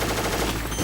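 Enemy gunfire in Metal Gear Solid, a short, dense burst of automatic shots that fills the whole moment at steady loudness.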